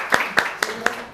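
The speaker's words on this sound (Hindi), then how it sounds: "एक बार जोरदार ताली हो जाए समीर सर के लिए" Four sharp hand claps spaced evenly in a classroom for Sameer sir, close and distinct, with no talking.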